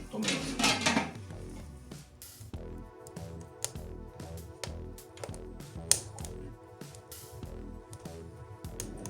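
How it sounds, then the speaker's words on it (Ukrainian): A metal lid set onto a cauldron of Hungarian-style bograch stew, giving a few clanks and rattles near the start, followed by scattered light knocks and clinks of cookware. "І накриваємо кришкою, щоб воно все там собі тушилося."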